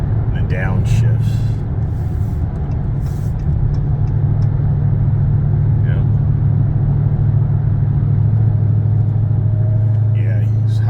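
Dodge Charger Hellcat engine downshifting, a loud, steady low engine drone filling the cabin throughout, with brief higher whines and someone talking faintly over it.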